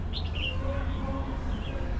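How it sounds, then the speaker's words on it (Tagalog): A few faint bird chirps rise over a low, rumbling background, brief tweets early on and again near the end. "Naririnig nyo guys yung mga huni ng ibon."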